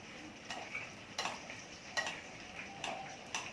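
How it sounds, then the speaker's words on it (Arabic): A utensil stirs hot potatoes in a pan, tapping the side several times in a light, irregular rhythm, faint and close with no one speaking. "هقلب البطاطس بتاعتي وهي سخنه"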